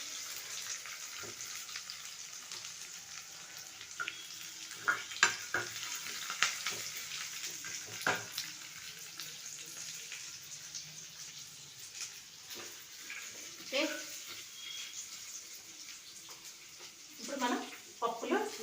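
Curry leaves and onion crackle in hot tempering oil for a dal rasam, a steady sizzling hiss broken by scraping stirs and small clinks throughout, no voices.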